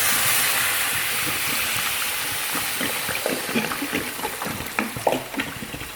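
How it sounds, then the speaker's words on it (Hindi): Water pouring into a cooking pot of beef paya trotters, a steady close splashing rush that fades and gives way to scattered bubbling and small splashes. "ये मैंने पानी इसमें ऐड कर दिया है।"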